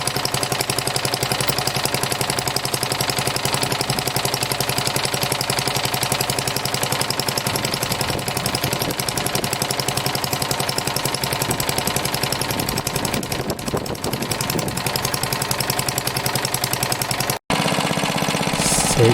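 A 1960s Hayter Hayterette lawn mower engine running slowly, a steady low putter of even firing pulses held close and loud for the whole stretch before cutting abruptly near the end.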